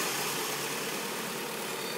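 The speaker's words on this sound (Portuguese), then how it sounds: "Ô, Luiz, dá uma ligadinha no motor aí" A Fiat Marea 1.8 16v engine with a Hightorque rebuild idles steadily, a smooth, even mechanical hum with airy hiss, constant and unchanging, heard close up with no voices.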